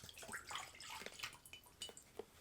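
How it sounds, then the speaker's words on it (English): Water is poured into a bowl, a soft splashing, trickling stream with scattered drips, fairly faint and close, ending with a louder splash. "So we're going to pour some water in this bowl right here."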